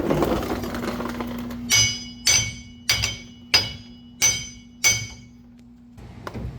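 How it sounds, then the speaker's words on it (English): Six sharp metallic hammer taps on a vehicle axle ring out at an even, unhurried pace over a faint steady hum, each strike clinking briefly before fading. "I'm going to have to tap it with a hammer."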